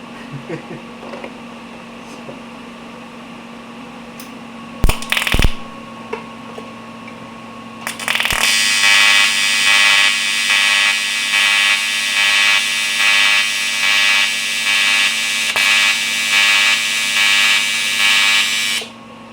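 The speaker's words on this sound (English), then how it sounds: "It welds AC and DC." AC TIG welding with a Vulcan ProTIG 200 welder, a harsh buzzing arc that starts after a few clicks and runs in a steady, slightly pulsing drone for about ten seconds, with brief pauses.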